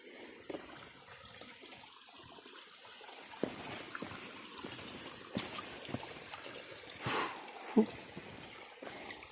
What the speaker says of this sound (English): Oh, I made it to a really beautiful spring.